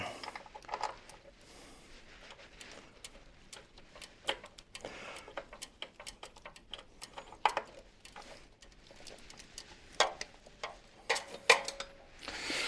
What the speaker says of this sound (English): We're just going to bolt it up now.